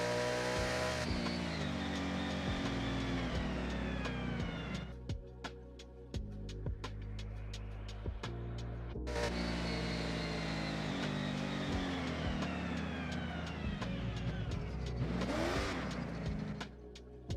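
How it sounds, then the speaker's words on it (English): Car engine in the Japan-set racing game Forza Horizon 6, revving up through gears with rising whines, brief drops at shifts, and sustained loud acceleration throughout, with a tire squeal briefly near the end. "Only thing I could hear is my car."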